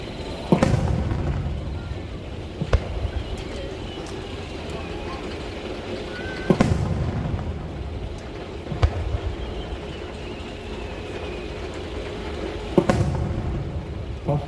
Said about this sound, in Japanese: ここからはパステルカラーの実際に花火ご覧いただきましょう